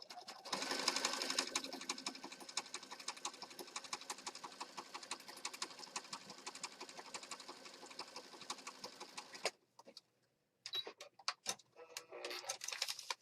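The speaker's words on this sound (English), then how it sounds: "I've got black thread in the upper and the lower, and I'm just going to stitch right across" A sewing machine stitching zigzag with black thread across a junk journal page, a fast continuous mechanical whir and ticking, close, stopping briefly before starting up again.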